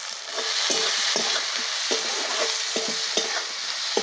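Chopped potatoes with onion, green chili and a pinch of turmeric fry in a pan, with a steady sizzle under repeated scraping stirs of a spatula.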